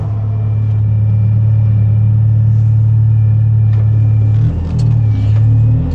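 A loud, close engine of an Alpine A110 Schirmer GT sports car on a race track, droning steadily, with a low rumbling tone that dips and shifts briefly near the end.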